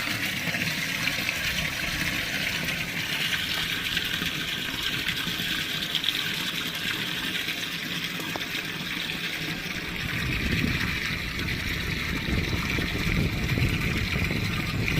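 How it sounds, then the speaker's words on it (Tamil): Water pumped from an electric pump pours steadily into an overflowing tank, a continuous loud rushing and splashing flow with no pauses. "தண்ணி ஓடிட்டுருக்கு"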